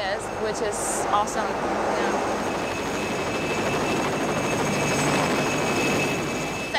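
Helicopter in polar surroundings, a steady, loud rotor and engine drone heard from inside the cabin, with a voice talking over it near the start.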